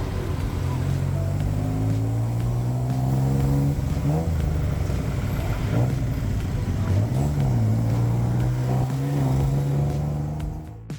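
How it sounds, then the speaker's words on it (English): A tuk-tuk rides through busy Bangkok streets near Khao San with a loud, continuous buzzing small-engine drone that rises and falls in pitch as it speeds up and slows, heard from on board with traffic noise around. "We headed back to the hotel on a pretty frantic tuk-tuk ride."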